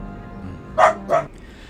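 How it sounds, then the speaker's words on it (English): A dog barks outside, two moderately loud barks about a third of a second apart over a low steady background hum. "There's a dog barking outside he's responding to."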